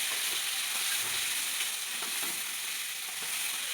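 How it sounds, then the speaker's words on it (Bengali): Brinjal pieces being stirred in a frying pan for a vegetarian thali. A continuous bright sizzle carries faint scraping movements from the stirring, and nobody speaks. "আবারও কিছুটা নেড়ে চেড়ে বেগুনগুলো দিয়ে দিল"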